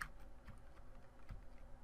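Soft clicking of computer keyboard keys being pressed while playing the indie game Super Mega Bob, a few scattered faint taps over a steady background with no talk.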